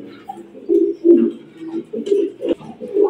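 Black Arabian Cocka pigeons coo close by in a series of low, throaty, rolling calls, several bursts with short pauses between them.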